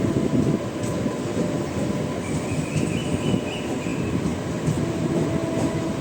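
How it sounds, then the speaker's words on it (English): A passenger train from the Kachiguda side rolls past on the Ghatkesar–Cherlapalli bypass line, a loud, steady rumble with clicking wheels over rail joints and a faint wheel squeal, close by and continuous. "Let's see what is this passenger train coming from Kachigoda side"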